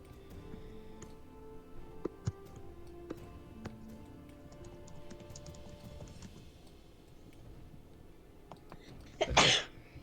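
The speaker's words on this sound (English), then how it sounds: "It's okay to sneeze." A single loud, sudden sneeze bursts out near the end, after a quiet stretch marked by faint ticks and taps.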